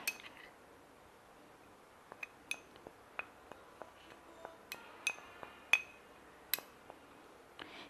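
A spoon mixing amla powder into an onion-based hair dye in a bowl, giving quiet, close, irregular clinks and taps against the bowl with soft scraping between them, no voices.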